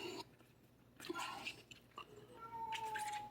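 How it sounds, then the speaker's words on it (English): A house cat meows in a kitchen, several short close calls spread across a few seconds, rising and drawn out, with light handling noises between them. "He meows all day"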